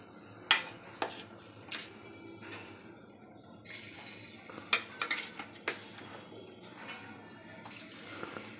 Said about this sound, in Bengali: পনিরগুলো আগে এভাবে ভেজে নেবে।